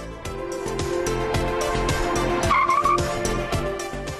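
Mercedes E-Class braking hard from 50 km/h under automatic emergency braking for a pedestrian, heard as a loud, juddering tire skid with rapid, rhythmic pulsing and a brief squeal midway.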